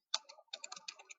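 Quick close-up keystrokes on a computer keyboard, a short run of light clicks and taps as a command is entered, quiet and isolated.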